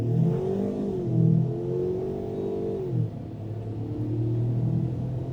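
Ford Maverick Tremor pickup with a 2-liter turbocharged engine accelerating back to highway speed, a steady loud engine drone climbing in pitch, dipping briefly near the middle, then pulling on again with no talk over it.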